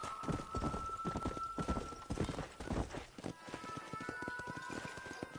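Rapid hoofbeats of a galloping horse in Red Dead Redemption pound steadily throughout, with a brief whinny near the start, loud and close.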